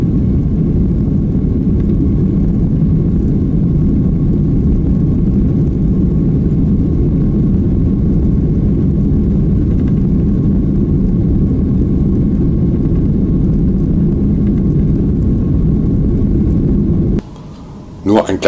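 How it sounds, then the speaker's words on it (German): Airplane turbines at full thrust during takeoff, a loud steady roar with deep rumble filling the cabin, continuous throughout before a brief drop near the end. "Die Turbinen haben Volllast."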